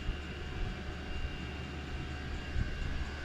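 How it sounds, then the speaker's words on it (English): A workshop heater hums steadily in the background, a constant low drone with faint tonal lines running unchanged for a few seconds, fairly quiet and with no talking. "That humming in the background is actually my workshop heater"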